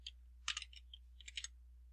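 Quiet, close keystrokes on a computer keyboard as a spreadsheet formula is entered, a short burst of light clicks in two quick clusters with a single tap between.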